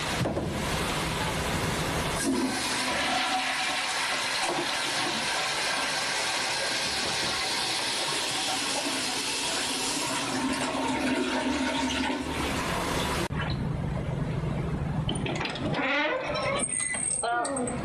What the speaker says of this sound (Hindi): मैं इसे फ्लश कर देता हूँ।